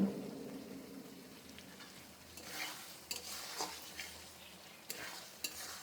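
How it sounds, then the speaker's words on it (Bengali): Boiled potatoes sauté in a little oil in a pan, with faint, soft sizzling and occasional scraping and stirring clicks, all heard close up with no talking. "আরও কিছু সময় আমি এভাবে কষিয়ে নেব।"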